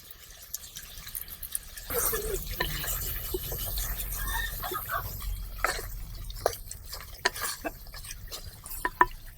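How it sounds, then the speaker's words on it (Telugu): Water is poured into a pot of gongura mutton curry: a quiet clink, then a steady close liquid splash and gurgle with drips and a few sharp utensil clicks, no talk. "కొద్దిగా నీళ్ళు పోసుకుందాం."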